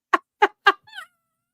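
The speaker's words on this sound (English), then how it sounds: "It's the black cat." A black mother cat meows close by: three short, evenly spaced calls and then a longer, rising meow, with silence between them.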